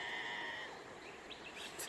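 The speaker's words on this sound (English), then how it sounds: "I don't know if you can hear that crazy goat in the background." A goat bleats in a wavering, drawn-out cry from some distance, fairly faint against a steady background hum.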